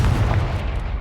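The Confringo explosive spell in the Hogwarts Legacy video game lands as a single heavy, booming blast, close and loud, lasting about a second.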